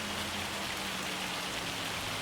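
Steady rain pours in Farming Simulator 25 while a tractor works a field with a 10 meter plough, a dense even hiss of falling water with a low engine drone beneath, constant throughout.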